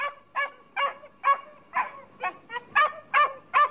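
A dog barks repeatedly in an audiobook dramatization of Robinson Crusoe, set aboard a ship's deck, with about nine evenly spaced, fairly loud barks heard alone without talk.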